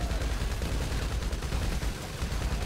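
Dense, rapid gunfire from GTA V Online during a zombie apocalypse in Los Santos, with overlapping shots blurring into a continuous loud rattle.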